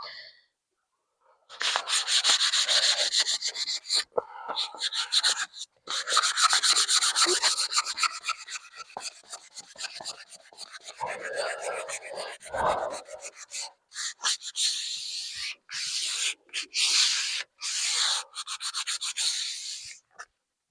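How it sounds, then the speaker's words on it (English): Sandpaper rubbed back and forth along the wooden handle of a fireman's axe: close, scratchy rasping strokes in long bursts with short pauses between them, steady and alone. "Normally you want to like sand it until all the shiny stuff's off"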